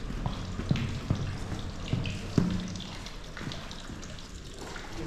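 Clean spring water from underground flows steadily near Siena, a continuous close gurgling and splashing stream with scattered drips, heard alone without voices.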